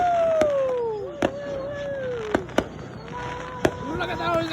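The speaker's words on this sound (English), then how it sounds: "Look at those explosions!" Fireworks burst repeatedly at a high school pep rally, sharp cracks and pops coming every second or so over rising whistling tails and a steady crowd murmur, with voices audible in the background.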